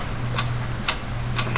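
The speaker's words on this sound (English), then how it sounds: "What is that mysterious ticking noise?" A mysterious ticking repeats at an even pace, three sharp clicks about half a second apart, with a low hum running steadily underneath.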